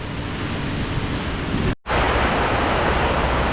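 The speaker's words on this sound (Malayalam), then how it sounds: "ഇവിടുത്തെ ഒരു കാറ്റും മഴ കണ്ടോ നല്ല കാറ്റാട്ടോ" Heavy rain pours down with gusting wind in a village in Ernakulam district, Kerala, in a loud, steady roar that cuts out for a split second, then resumes just as strongly.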